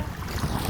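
Rough sea waves on a wild day, heard as a continuous low rushing wash of surf with some wind buffeting the microphone, no one speaking.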